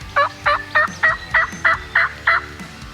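A wild turkey gobbles in a rapid run of about eight rattling pulses, loud and fairly close, during a North Carolina spring turkey hunt.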